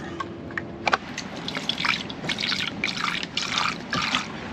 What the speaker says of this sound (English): Here, let Daddy get you some fresh water.